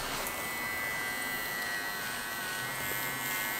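A Gamma+ Ace zero-gap electric hair trimmer buzzes steadily up close, a continuous high whine with no pauses.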